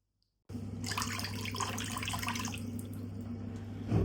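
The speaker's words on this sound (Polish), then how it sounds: "do miski wlałam letnią wodę, nie ciepłą, letnią wodę i dodałam szampon" Lukewarm water pours steadily into a bowl for washing cashmere sweaters, a continuous close splashing stream that starts abruptly and runs on.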